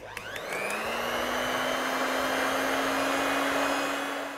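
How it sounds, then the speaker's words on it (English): A hand mixer beating egg whites for chocolate mousse spins up to a steady, loud motor whine and holds a constant buzzing drone, with no voices over it. "which is why you definitely want to use a hand mixer"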